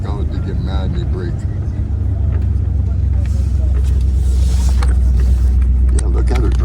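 A 1973 Dodge Charger driven by a young woman gives a steady, close low engine rumble and road drone throughout, with people talking over it.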